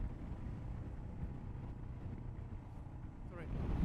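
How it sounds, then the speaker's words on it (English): A Royal Enfield Himalayan motorcycle cruises on a highway, heard as a steady low engine drone buried under constant heavy wind buffeting against the microphone, swelling slightly louder near the end. "So now I'm riding Royal Enfield Himalayan on the highway"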